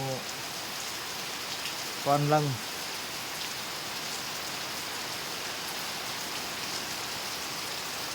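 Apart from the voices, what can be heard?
rain falling at night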